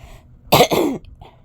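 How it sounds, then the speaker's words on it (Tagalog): Someone close by gives one harsh, throaty cough in two quick bursts, loud against a quiet background. "Yan inuubo talaga ako guys."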